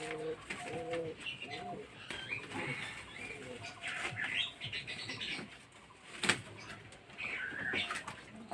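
Adult pigeons coo softly in a low, repeated throaty rhythm, with some wing flutters and busy background noise from a loft or yard.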